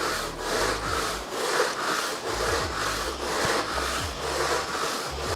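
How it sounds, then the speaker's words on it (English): A Bissell steam mop switched to its high setting with the scrubber running, giving a steady, loud mechanical drone with a pulsing, rhythmic rasp close by and no voices. "And now you guys want to turn it on. And we'll turn on high."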